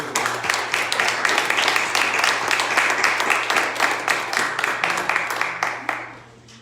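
A church congregation at a Sunday service claps steadily together, a continuous wash of applause that thins and fades near the end.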